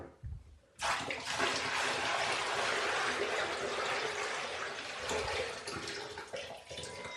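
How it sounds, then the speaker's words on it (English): Water pours steadily into a new shower pan being filled for a leak test during a bathroom remodel, a continuous close rushing splash of about six seconds with no talk. "I'm putting the water in for the water test."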